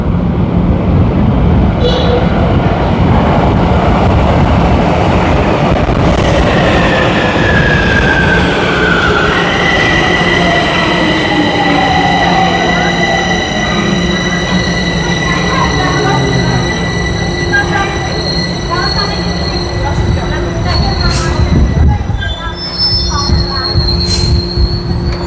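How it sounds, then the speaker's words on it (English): A metro train pulls into an underground station in Bucharest, Romania, its wheels squealing loudly with long rising and falling metallic whines over rumbling rail noise, slowing to a stop. "Let's take a look at this train that's arriving right now"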